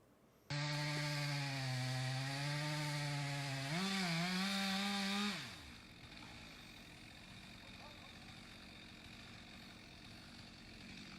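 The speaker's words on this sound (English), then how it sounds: "Yeah, chainsaws. Anyone can buy them," A chainsaw runs loud and steady at high revs for several seconds, its pitch dipping and wavering briefly, then it drops off to a low idle rumble that continues to the end.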